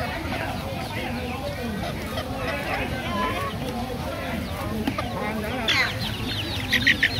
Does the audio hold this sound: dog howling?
no